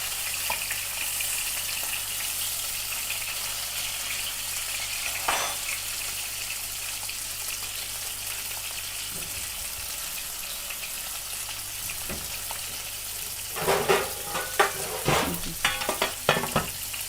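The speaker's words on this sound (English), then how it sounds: "We're going to sear the other side" Duck breast searing in a hot pan for a low-syn hoisin duck, a steady broadband sizzle and frying hiss running throughout, with a few louder crackles and spits near the end as it cooks alone without talk.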